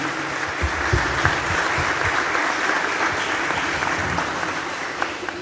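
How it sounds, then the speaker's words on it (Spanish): Steady applause from a crowd at a Day of Memory, Truth and Justice commemoration, honouring children who sang the national anthem in sign language; the clapping runs continuously, dense and even, for about five seconds with no talk over it. "le vamos a dar un aplauso a los chicos que cantaron el himno en lengua de señas"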